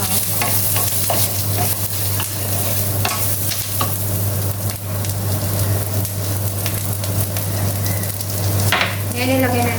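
Coriander, chili and turmeric powders sizzle steadily in a hot pan while a spoon stirs and scrapes through them, with a constant low hum underneath and no voices.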